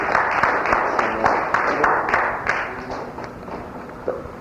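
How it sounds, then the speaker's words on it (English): Applause from an audience at the close of a university lecture on cultural studies and Marxism, a dense patter of many hands clapping, steady at first and thinning out toward the end. "Let's get a quick moment of applause."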